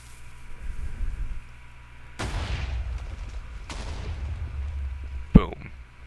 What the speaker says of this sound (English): we're going to watch little Mr. Priest Testificate get blown up, probably, by our cannon